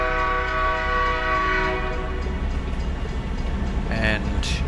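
Game train in American Truck Simulator rumbling steadily up close with sustained horn tones, ending in a couple of short brighter horn blasts; someone speaks faintly underneath.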